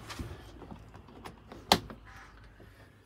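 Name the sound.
sliding separator door in a caravan being pulled across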